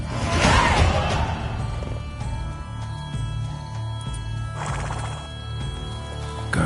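Horse whinnying with clip-clop hooves while riding through gardens in The Witcher 3, a neigh rising early over steady hoofbeats and a constant low game music bed throughout.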